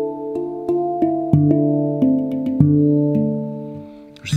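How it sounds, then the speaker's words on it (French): A handpan rings out in sustained metallic tones, softly struck several times in a loose rhythm, each note blooming and overlapping as it decays, with no talking. "à peine je parle proche du handpan, et ça fait des sons en fait"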